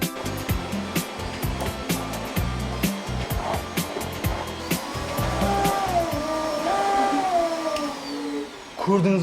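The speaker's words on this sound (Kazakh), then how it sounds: "Нағыз оригинал пылесос." A genuine vacuum cleaner runs in a village home, a loud whining motor whose pitch shifts and rises, with choppy thumps and bumps early on and a voice speaking over it.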